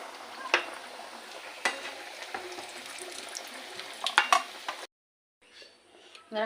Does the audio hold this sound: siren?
no